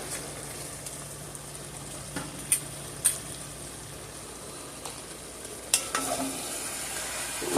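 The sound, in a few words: stirring three bean chili with parsley in a pot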